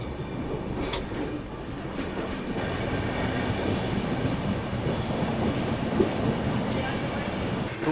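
Barmer - Yesvantpur AC Express passenger train running near Bharuch at a steady speed, a continuous loud rumble and rattle of wheels on rails with faint clacks throughout.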